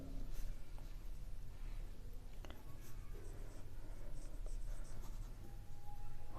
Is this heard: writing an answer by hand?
yes